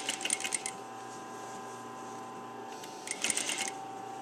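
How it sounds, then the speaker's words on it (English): A sewing machine stitches a ruffle on a tribal belly dance skirt at a half-inch seam, giving a steady close mechanical whir with brief louder rattling bursts near the start and end. "so I'm going to sew it about 1/2 inch and just flatten everything out of the way as you go"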